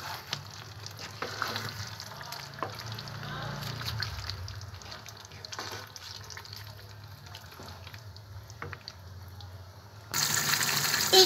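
Onion, cinnamon, bay leaf and cloves fry in oil for a chicken kala bhuna, a soft continuous sizzle with occasional spoon taps and stirring, fairly faint, ending in a louder hiss.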